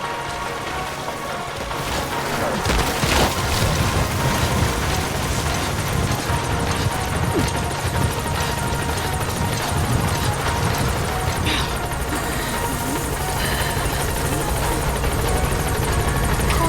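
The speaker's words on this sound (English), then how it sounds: "Support helicopter has arrived." A support helicopter arrives in Metal Gear Solid V: The Phantom Pain, its rotor throbbing in a steady, loud, continuous drone without voices.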